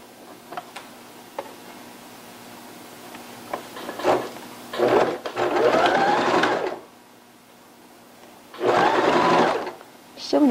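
A sewing machine stitching a leggings skirt, its motor whirring in two close bursts separated by a pause, with light ticks and handling sounds before it starts.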